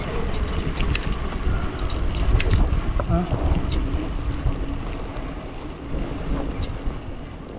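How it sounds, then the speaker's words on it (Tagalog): Strong wind roars and buffets a microphone in a steady, loud wash, with faint water and boat-like sounds beneath it. "Sobrang lakas ng hangin."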